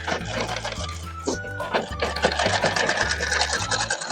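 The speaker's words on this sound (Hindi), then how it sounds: "फिटिंग का मार्किंग पर हम सिलाई लगाएंगे" A sewing machine stitching a blouse along its fitting marks, running in a steady rapid chatter with a low rhythmic thump throughout, close and fairly loud, no speech.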